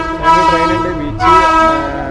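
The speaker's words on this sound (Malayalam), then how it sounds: "സൈഡിൽ ഇതാ ട്രെയിൻ പോകുന്നത്" A train rolls past close by near a beach in Kerala, a steady rumbling hum with two swells of horn-like tones, no voices over it.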